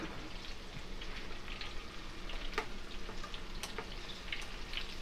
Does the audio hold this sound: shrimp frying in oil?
yes